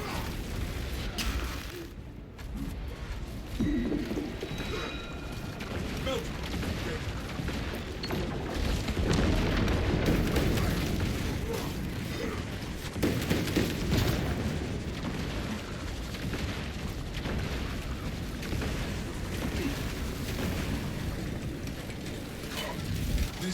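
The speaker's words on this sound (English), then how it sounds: "The Titan launches its missiles." A Titan launching missiles in the Space Marine 2 video game: a sustained, dense roar of booming launches and rumbling blasts that keeps going, loud and continuous, with no talking.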